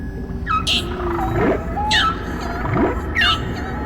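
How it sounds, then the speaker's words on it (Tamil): A large cartoon whale vocalizes in a series of rising and falling calls and squeaky whistles, with three distinct bursts spaced across a few seconds, loud and close over a faint background. "இந்த பெரிய திமிங்கலம் என்ன சொல்லுது?"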